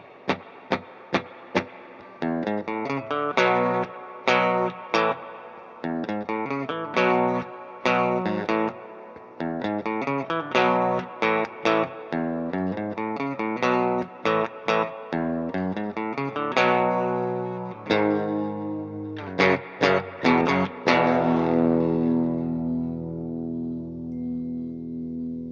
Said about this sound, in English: next is the stereo chorus